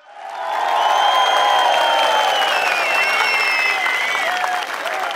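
Large crowd at a CHP political rally in Amasya breaking into sustained applause, swelling quickly to a loud, dense roar of clapping mixed with cheers, holding steady before tapering slightly near the end.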